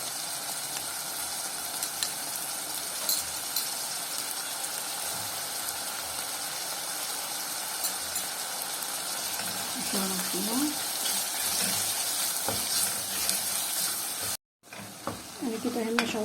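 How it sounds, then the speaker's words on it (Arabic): Chicken gizzards sautéing in a pan with black pepper, a steady close sizzle with stirring scrapes throughout, briefly cut near the end before the frying resumes. "انا كده هنا شوحت القوانص."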